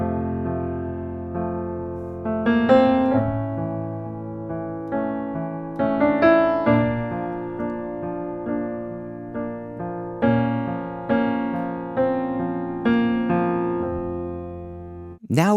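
A song plays as a melodic keyboard-led passage of sustained notes rising and falling in phrases, steady and clear throughout with no talking over it.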